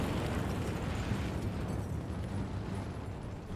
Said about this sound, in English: We're going to get one more front nuke over here.